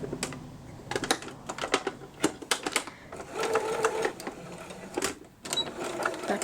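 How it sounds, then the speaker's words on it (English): A sewing machine stitches a fabric placemat in quick bursts of rapid clicking needle strokes, pausing between runs as the work is pivoted, close and moderately loud. "I'm going to pivot, and then I'm going to sew off"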